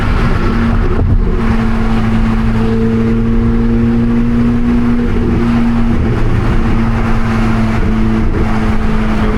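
A 1064-hp Chevrolet Corvette C8 ZR1 on a nighttime run through downtown Chicago makes a loud, steady engine and exhaust drone that shifts pitch slightly. It is heard up close and continuously, with no talk.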